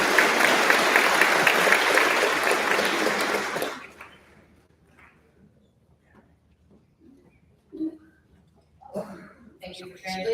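A graduation ceremony crowd gives a loud, sustained round of applause in a hall for nearly four seconds, then it cuts off, leaving quiet room noise with a few scattered claps and rustles.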